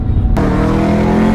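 A modified 2015 Camaro 1LE fires up with a sudden loud roar after a brief low rumble, then settles into a close, steady engine drone.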